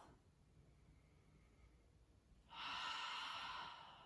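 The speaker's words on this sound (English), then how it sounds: "Breathing in through the nose and exhaling out through the mouth." A slow breath drawn in through the nose and let out through the mouth during a beginners' core workout on a mat: near-silence, then one loud, airy exhale lasting about a second and a half, alone with no talk.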